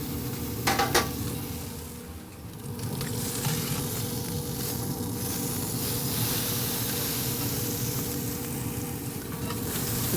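The fat edge of a tomahawk ribeye steak sears on a hot grill, giving a steady close sizzle and hiss, with a couple of sharp metallic clicks near the start.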